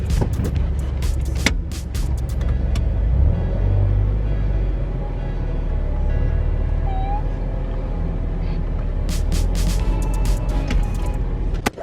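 A car cruises steadily on a long highway drive, a continuous low road and engine rumble with tyre noise and a few brief clicks and knocks from inside the cabin.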